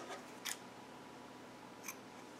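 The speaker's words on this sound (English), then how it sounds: "I'm going to cut my previous colored yarn." Two crisp snips of scissors cutting yarn during crochet work, one early and one near the end, faint and close against a quiet room background.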